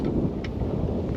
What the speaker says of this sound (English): Let's get out of this rain and lightning.